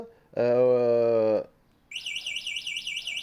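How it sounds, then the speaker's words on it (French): A folding electric bike's locator alarm sounds loudly: a steady buzzing tone for about a second, then a rapid warbling, chirping siren that keeps going. "ça c'est l'alarme pour savoir où il est, si on l'a égaré"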